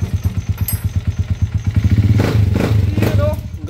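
A motorcycle converted from 200cc to 175cc with an all-stock exhaust starts up, first a fast thumping chug, then a louder steady running engine, with someone talking over it near the end.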